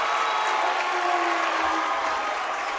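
Spectators at an NCAA women's college basketball game between Trinity University and UT Dallas applaud and cheer steadily throughout, a dense, even wall of clapping filling the gym with no pauses.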